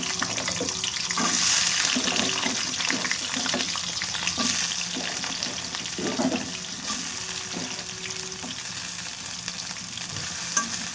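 Pumpkin and potato pieces fry in hot oil, a steady broadband sizzle with occasional stirring clatter and scrapes, close and fairly loud, no voices.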